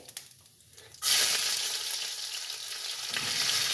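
Chopped chili and ajwain dropped into hot oil with mustard seeds burst into a loud, sudden sizzle after a brief quiet, then settle into steady frying hiss with a second surge near the end.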